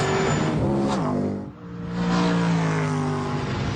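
An Ascari A10 supercar engine revs hard under acceleration, loud and close, its pitch climbing in steady harmonic sweeps, dipping briefly at a gear change before rising again, with no talking.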